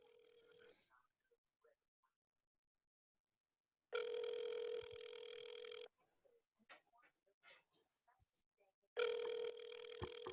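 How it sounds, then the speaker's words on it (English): Telephone ringing heard through a call line, two long electronic rings separated by a few seconds of quiet, with faint clicks and brief murmurs in between. "I can't hear it ringing yet, but it's not near your mic."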